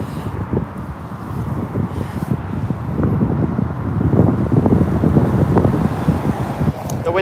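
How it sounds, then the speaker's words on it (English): Gusty wind buffets the microphone outdoors at London Heathrow airport, a steady low rumbling roar that swells louder through the second half. "The wind is picking up, guys"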